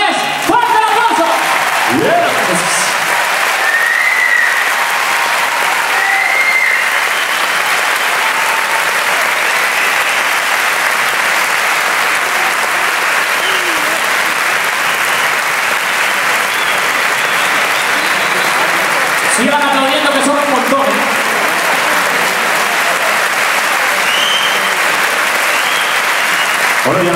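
A large audience in a concert hall at a Mexican-themed evening applauds strongly for the Orfeón Pamplonés youth choir, sustained loud clapping with scattered cheers and whistles.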